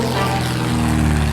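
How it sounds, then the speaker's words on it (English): A propeller airplane drones overhead in the video game 60 Seconds, a steady, loud, buzzing engine hum with a constant tone across the short stretch. "Oh, airplane."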